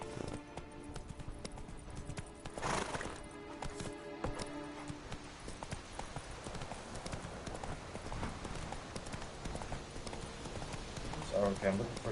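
Roach the horse gallops in The Witcher 3: Wild Hunt, hooves clip-clopping in a quick, even rhythm at moderate loudness under game ambience and occasional speech.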